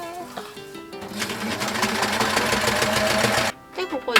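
An overlock serger stitches and trims yukata fabric for a dress, its blade cutting off the excess edge as it sews: a loud, rapid, steady mechanical whirr lasting a few seconds, with speech before and after.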